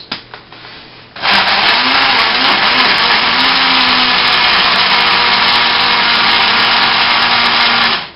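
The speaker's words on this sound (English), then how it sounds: "So we're going to blend this quickly." A small kitchen blender whirs steadily, blending a chocolate chip bar mixture. After a second of quiet handling it starts up and runs loud and continuous up close, with no talking.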